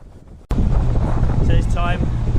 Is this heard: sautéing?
no